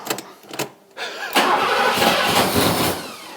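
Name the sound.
Mercedes AMG Hammer V8 engine cranking and starting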